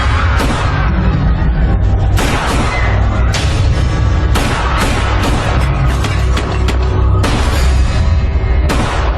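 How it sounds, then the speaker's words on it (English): Gunfire from a store robbery caught on recorded footage: a loud, sustained barrage of booming blasts and sharp bangs arriving in repeated bursts across the whole stretch, with a shotgun and several guns firing. "we hear gunfire."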